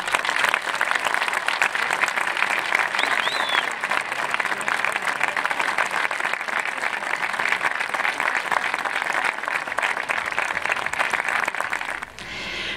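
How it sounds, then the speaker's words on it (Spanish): A large audience at an outdoor cowherders' festival in Aristébano applauds continuously, a dense, loud wash of many hands clapping that holds steady for about twelve seconds before tapering off abruptly. "Davinia y Jessica, acercaos y recibid el aplauso de todos los vaqueiros y amigos de los vaqueiros"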